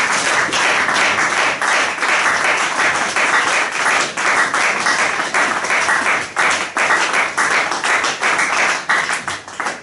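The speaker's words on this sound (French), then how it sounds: "Est-ce qu'on peut acclamer le Seigneur?" Church congregation clapping and applauding during worship: dense, continuous applause from many hands, loud and sustained throughout with slight rhythmic swells.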